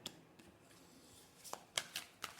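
Tarot cards are handled and laid out on a table in a few quiet, sharp flicks and slaps, sparse and close, the louder snaps clustering in the last second.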